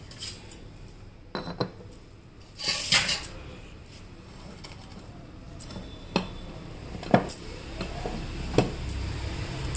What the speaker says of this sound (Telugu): మూత పెట్టేసుకొని